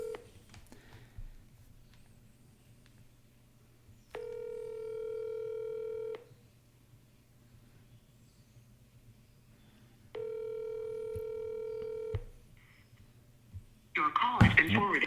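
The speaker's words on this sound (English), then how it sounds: "We're going to do three more dials" Two sustained telephone dial tones, each about two seconds long, sound clearly while a realtor calls real estate leads. A low hum runs underneath throughout, and a short burst of noise comes at the end.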